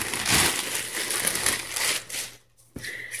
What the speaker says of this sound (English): It comes in this plastic bag when it arrives from Amazon